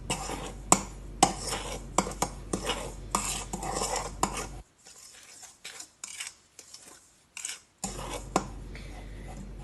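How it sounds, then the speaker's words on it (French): Flour and salt mixed by hand in a bowl for msemen dough, close repeated bursts of soft scraping and stirring with brief clinks, broken by a quiet pause before the mixing resumes, no talk. "Je mets mon sel. Je mélange le tout."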